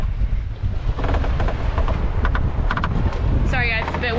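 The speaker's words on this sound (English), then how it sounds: "Sorry guys, it's a bit windy." Strong wind buffets the microphone in a steady low roar, with brief voices and a few clicks and squeaks scattered over it.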